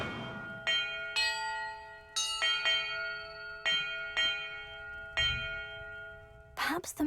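Bells rung one at a time in Hogwarts Legacy, each a clear ringing strike with a long sustained tone, about nine distinct strikes in an irregular sequence, ending in a brief burst of other noise.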